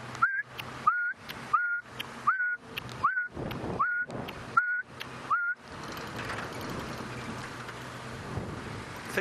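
A voice imitates the call of a black-backed puffback bird, repeating a short sharp whistled click about eight times in an even rhythm, close and clear, followed by breezy outdoor rumble from a safari setting.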